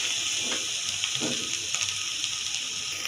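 Grated coconut frying in a pan for coconut laddu gives a steady, soft, even sizzle throughout, with a couple of brief scraping stirs near the start.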